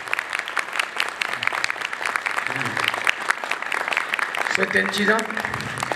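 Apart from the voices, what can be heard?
congregation clapping in the name of Jesus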